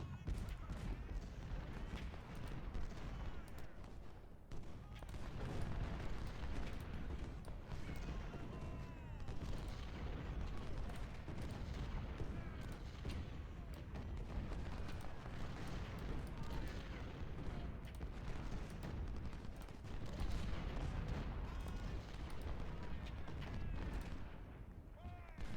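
Artillery fire in the Ultimate General Civil War game, set at the Battle of Spotsylvania's Mule Shoe: a continuous din of cannon booms and gunfire runs through the whole stretch, dense and steady, mixed with battle noise.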